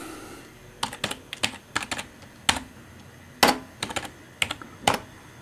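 A password is typed on the keyboard of a dusty old Dell Inspiron 570 desktop, a run of about a dozen sharp, close key clicks in uneven bursts, with short pauses and a quiet background.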